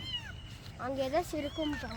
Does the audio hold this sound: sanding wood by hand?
no